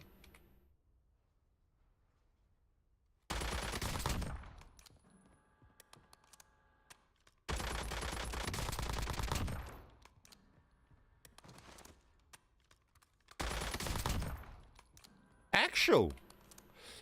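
Bursts of gunfire in the Warzone video game come in three separated volleys with near silence between them, ending in a sharp, bright clatter.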